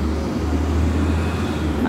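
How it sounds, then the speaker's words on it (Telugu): A city bus stopping on an Atlanta street beside a main road with traffic: a loud, steady low engine rumble with a constant drone and road noise, no voices. "బస్సు అక్కడ ఆగింది"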